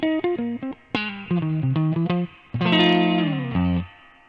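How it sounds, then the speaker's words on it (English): Electric guitar played through a lush Crazy Tube Circuits reverb pedal, a run of short plucked notes followed by sustained chords whose tails ring and fade, played alone with no talking. "Very nice and lush reverb."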